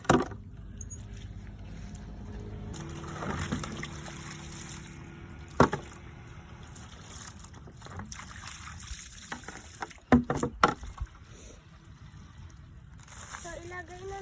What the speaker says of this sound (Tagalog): palitan muna natin yung tubig kasi madumi